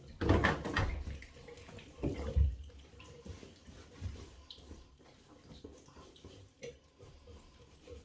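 Water sloshes and splashes as soap is rinsed out of a Melton wool hunt coat, with a few heavier surges early on followed by quieter trickling and wet handling nearby.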